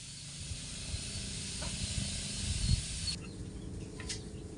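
Apahap (Asian sea bass) cooking on a grill gives a faint, steady sizzling hiss throughout, with occasional small background sounds and no talking.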